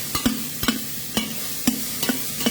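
Onions browning in a pan over moderate heat for a mild chicken curry, a steady soft sizzle broken by evenly spaced scraping stir strokes about every half second, close and clear with no talking.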